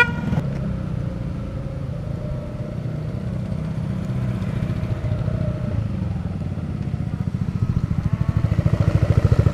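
Motorcycles and other traffic ride along a road on a trip from Caylabe to Kaybiang Tunnel, a steady close engine drone with a rumbling motorcycle growing louder toward the end and a brief horn-like tone early on.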